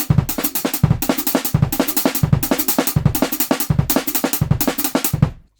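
An acoustic drum kit plays a fast drum and bass style groove, steady kicks and snappy snare backbeats driven by busy cymbal hits, close and continuous for about five seconds with no talking.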